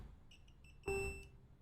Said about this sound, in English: So I put mine to continuity mode, and we should get beeping sounds here.